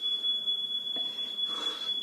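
An indoor fire alarm keeps up a piercing, continuous high electronic tone, with faint room noise and a soft thump or two beneath it.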